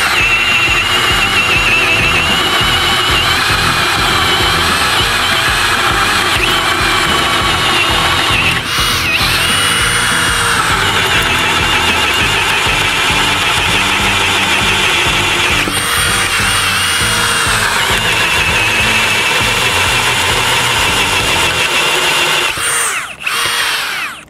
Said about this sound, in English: I was able to really lean into the tool without fear of the tool bogging down.